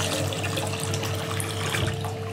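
Steady rushing of a hotel bathroom tap running continuously at a close distance, a constant broadband stream of water with no talk over it, at a hotel in Edinburgh, Scotland.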